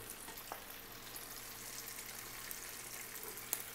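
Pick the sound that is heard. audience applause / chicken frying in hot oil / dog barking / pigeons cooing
chicken frying in hot oil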